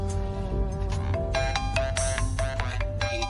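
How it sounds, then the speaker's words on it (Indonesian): A mobile phone ringtone plays loud and close, a bright electronic melody of repeating chime notes that runs the full length with no talking. "Telepon."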